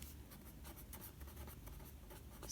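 Pen or chalk writing during a maths lesson on integers, a faint steady scratching that runs continuously with no pauses.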